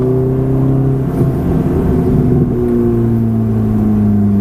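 A Ferrari F430 engine pulling hard under acceleration, a loud, steady droning note from inside the car with rising harmonic tones and no talk over it.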